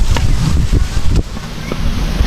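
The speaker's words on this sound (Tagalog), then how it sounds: "mahangin ngayon" Gusty wind buffets the microphone with low rumbling blasts and rushing noise, loud and close, rising and falling over a couple of seconds.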